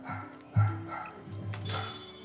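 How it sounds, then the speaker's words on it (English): A pet dog named Sadie barks a few times indoors, a sharp close bark followed by softer yips and whines, over faint game sounds. "now the dog's barking"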